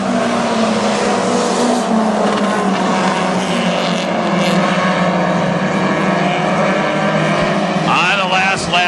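Hobby stock race cars roar around Granite City Speedway on the final laps of a feature race, a loud continuous engine drone filling the track with an announcer talking over it.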